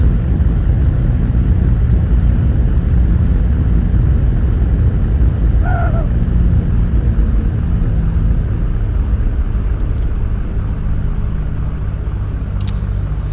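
Light general-aviation aircraft engine in the X-Plane 10 flight simulator drones as a steady, loud low rumble throughout, with a brief faint tonal blip partway through and a few soft clicks.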